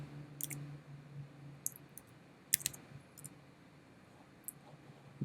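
Computer keyboard keys tapped in a few short bursts while a part number is typed, crisp close clicks separated by pauses in a quiet room.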